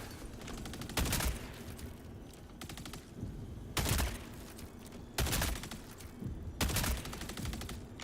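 Helldivers 2 gunfire comes in heavy repeated blasts about every one to three seconds, loud and booming, over a constant rumbling game background.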